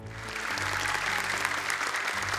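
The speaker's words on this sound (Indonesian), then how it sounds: "Boleh tepuk tangan untuk Kak Nabila." A studio audience at an Indonesian Quran recitation show claps briefly, a dense burst of applause lasting about two seconds over a steady low musical hum.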